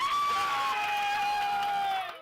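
Fans at a UNC Tar Heels basketball game against Washington on a Sunday afternoon cheer and whoop, a dense crowd roar with a high sustained yell on top that holds steady, then cuts off abruptly.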